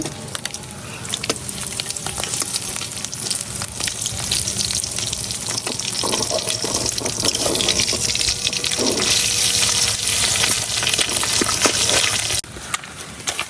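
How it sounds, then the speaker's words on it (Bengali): Pabda fish being fried hard on one side and then turned over in hot oil, producing a loud, constant hissing sizzle with occasional scrapes and knocks. The sizzle drops away briefly near the end. "এখন আরেক সাইড উল্টাই দিতেছি"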